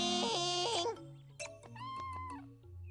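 A cat lets out a few high, wavering meows, the first loud and close, then shorter cries after a brief pause, with no voices over them.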